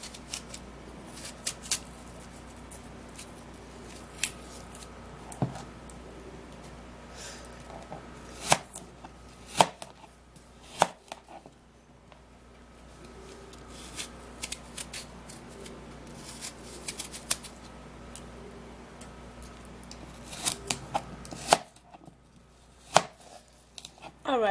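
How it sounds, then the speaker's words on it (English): An apple is cut into pieces with a knife, sharp irregular chops and clicks on a board spread over a long stretch, fairly close against a faint steady background hum. "then we're going to cut the apple"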